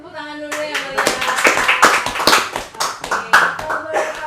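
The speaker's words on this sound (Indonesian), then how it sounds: "boleh kasih tepuk tangan dulu ya kalian" Hands clap in sharp, uneven bursts at an Indonesian talk show, close and fairly loud, with a voice talking and musical tones sounding underneath.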